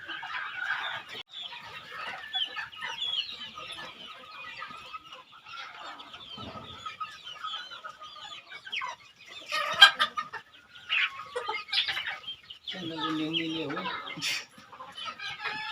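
Local desi chickens kept at a home hatching setup cluck and murmur nearby in scattered, irregular bursts, growing busier and louder toward the end, with brief human talk mixed in.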